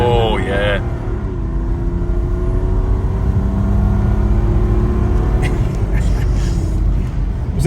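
A Mercedes W210 with a hybrid turbo and 7.7mm EDC launches hard, its engine roaring loud and close as the pitch climbs steadily through the pull.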